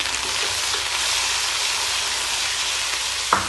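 Ginger-garlic paste and tomatoes frying with browned onions in a pan for chicken bhindi, giving a steady, dense sizzle that hisses without pause, with a brief clatter near the end.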